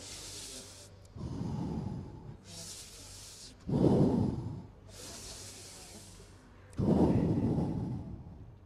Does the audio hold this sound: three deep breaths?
yes